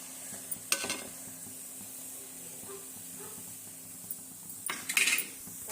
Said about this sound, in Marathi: आता तेल चांगलं गरम झालेलं आहे म्हणून मी हे तीन तीन वडे सोडलेले आहेत